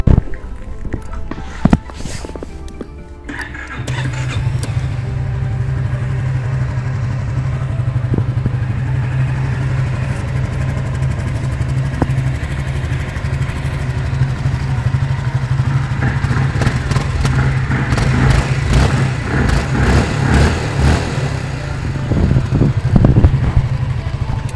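A Honda ADV 350 scooter engine runs with a steady, low idling hum, rising toward the end, heard up close with no talk.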